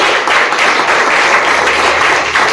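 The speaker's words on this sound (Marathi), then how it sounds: "टाळ्या वाजवायच्या त्यांच्यासाठी।" A school quiz audience claps for two students who answered correctly, a loud, busy burst of applause filling the short moment with no talk.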